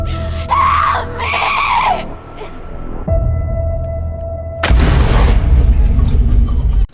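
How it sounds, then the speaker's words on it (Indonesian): A woman screams for help in the 2008 horror film The Ruins. Her loud, desperate cries come in bursts, followed by heavy booms and a dense, roaring rush of noise. "si wanita terus berteriak meminta tolong"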